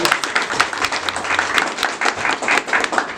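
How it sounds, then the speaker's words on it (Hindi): An indoor audience at a welfare society awareness programme claps steadily, a dense, loud burst of applause that fills the whole stretch with no talking over it. "मैं चाहूँगा इस वर्ड्स पे आप एक बहुत सब लोग साथ मिल करके हमारे मुजाहिद भाई के लिए ताली बजाएं"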